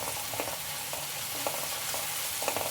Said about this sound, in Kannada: ಸ್ವಲ್ಪ ಫ್ರೈ ಮಾಡ್ಕೊಳ್ಳಿ ಇದನ್ನು.